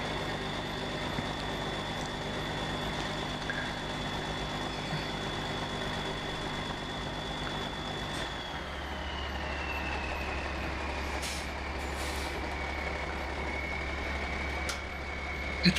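A wrecker tow truck maneuvering and backing up while moving a 1952 White truck, its steady diesel rumble shifting to a deeper, louder drone partway through, with a faint high whine fading downward, heard up close without talk.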